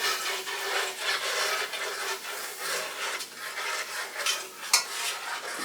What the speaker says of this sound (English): Go ahead and start stirring. Keep stirring.